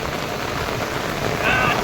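Heavy rain pours down in Dindoli, Surat, a dense, loud, unbroken hiss of drops close by with no other sound breaking through.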